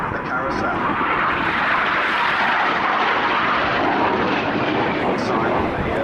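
Red Arrows RAF display jets roar through a tight high-g turn low over an airfield at an air show, a loud, continuous broadband engine rush with no break across the whole stretch.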